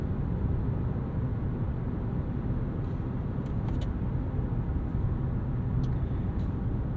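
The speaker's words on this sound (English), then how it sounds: "they've added a bit more sound deadening to quiet things down in the interior, and I'll let you get a bit of a taste of that NVH here." Inside a 2024 Hyundai Kona N-Line on the move, a steady, low cabin drone of road and engine noise hums continuously, with no one speaking.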